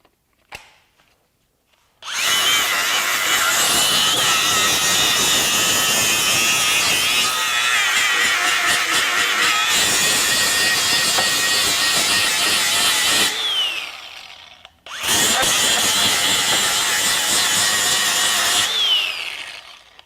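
DeWalt FlexVolt DCG416 angle grinder beveling the edge of steel, a loud, continuous high-pitched grinding whine in two long bursts separated by a brief pause, close by and alone.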